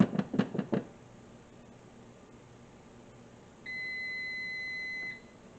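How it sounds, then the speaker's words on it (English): A kitchen oven sounds a steady two-tone electronic beep lasting a little over a second, signalling it has preheated to 300 degrees, after a few soft knocks and thumps of flour being handled nearby. "my oven did go off, so we're sitting at 300 degrees"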